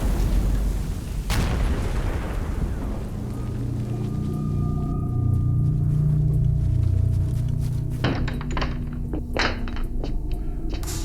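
Artillery shells bursting in a Gates of Hell: Conquest war game, a heavy boom early followed by rolling low rumbles and a cluster of sharp impacts later, loud and near.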